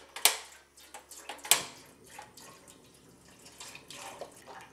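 Chicken broth made from simmered chicken bones is poured into a pot on the stove for a bitter melon hot pot, a steady liquid splash with a few sharp clinks near the start, close and moderately loud.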